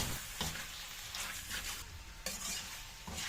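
Sotanghon guisado ingredients with crushed black pepper being mixed in a frying pan: a utensil scrapes and stirs in short strokes over a soft sizzle, close and fairly quiet, with no one speaking.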